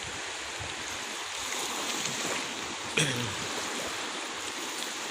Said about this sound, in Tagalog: Yan, ganda po ng dagat oh. Maliliit yung alon.